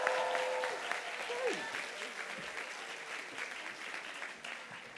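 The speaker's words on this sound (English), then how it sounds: "please make some big noise, all the whoops for Annelise Ramo" An audience at a student literature conference applauds and whoops as a poet is welcomed to the stage, with dense clapping and a few cheers that gradually thin out, and a voice briefly heard over the start.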